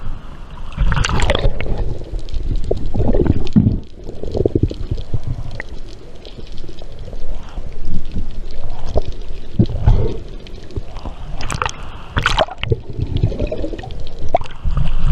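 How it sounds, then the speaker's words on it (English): White water crashing and churning around a freediver hunting lionfish off Tobago, with bursts of turbulent splashing and gurgling pulses heard loud and close, rising and falling in irregular surges. "Some white water hitting me here."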